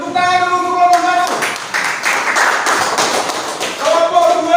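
A classroom of students applauds a group about to present, a burst of clapping from about 1.3 to 3.8 seconds set between stretches of voices talking, fairly close and loud.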